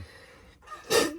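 A single sharp sneeze bursts out near the end, preceded by a quick intake of breath in an otherwise quiet camper van.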